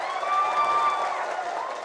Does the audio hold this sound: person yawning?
no